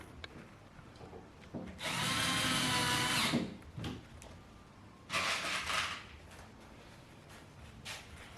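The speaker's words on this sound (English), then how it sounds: "Screwing up from underneath through those pilot holes that I drilled straight down." A power drill drives screws up through pilot holes into wood in two bursts, the first longer and louder, separated by quiet handling sounds.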